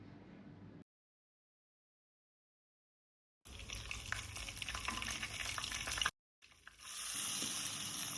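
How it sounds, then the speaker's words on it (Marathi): Cumin seeds crackle and sizzle in a spoonful of hot oil in a kadhai, the frying coming in loud bursts separated by stretches of complete silence. "कढईत 1 मोठा चमचा तेल टाकून घेतलं आहे व त्यात फोडणीसाठी जिरं टाकून"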